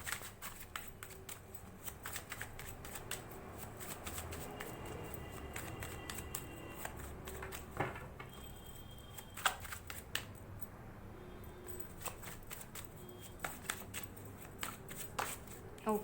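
Tarot cards are shuffled quietly and close by in a continuous stream of soft riffling and flicking, with light, irregular snaps throughout.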